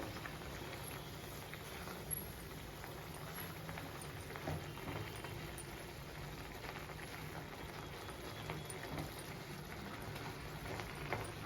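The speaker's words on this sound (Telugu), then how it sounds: "మొత్తం దగ్గరకు అయ్యేదాకా ఉడకనివ్వాలి బ్రెడ్" Double ka meetha bread mixture simmering in a pan, a faint, steady bubbling patter that continues evenly, with no talk.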